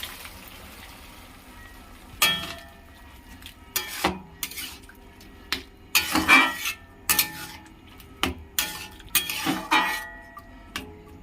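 Boiled potatoes and peas tipped into a pan of fried eggs for egg ghugni, with a run of clinking spoon-on-pan knocks and scraping stirs, fairly close, over a faint background hum.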